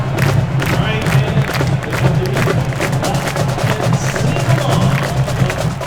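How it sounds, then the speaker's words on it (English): A stadium crowd at a college football game roars and cheers continuously, a dense, loud, distant-sounding mass of voices with scattered shouts and claps. "You'll hear the crowd, woo, or oh, they'll groan"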